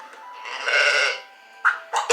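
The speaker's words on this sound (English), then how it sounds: "It's a sheep!" Sheep bleating on a farm, a long wavering bleat followed by a couple of shorter, sharper calls, fairly close and clear with no talking over it.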